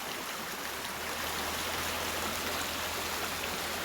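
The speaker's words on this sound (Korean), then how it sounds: "집 앞뒤에 이렇게 개울물이 흐르고 있어요" A clear mountain stream flows past a rural country house in Hoengseong, a steady, continuous rush of water close by with no voices.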